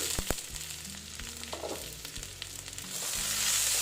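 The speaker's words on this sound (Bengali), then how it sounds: "আস্তে আস্তে ভেজে নিচ্ছি" Steady sizzling of yardlong beans frying in a pan, with a continuous crackling hiss and a few brief clinks near the start, no voices.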